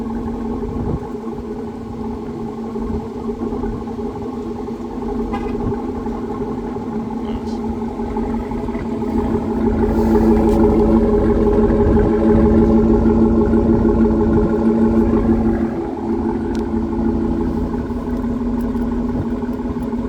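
Cold start of a 2022 GMC Yukon XL AT4 with a 6.2L engine and Corsa catback exhaust: a loud, deep, steady idle drone that swells louder around midway, then settles back to a rumbling idle.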